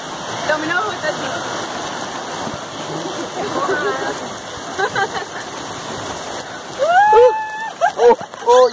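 Water jets spray and splash steadily at an outdoor water park, a continuous rushing hiss with people talking and exclaiming over it.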